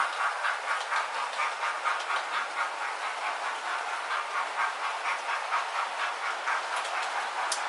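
A Hornby N15 'King Arthur' model locomotive runs along its track, giving a steady, rhythmic whirring hum with faint repeated clicks, even and continuous with no voices.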